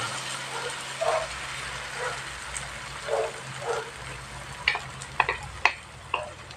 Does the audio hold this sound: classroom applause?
no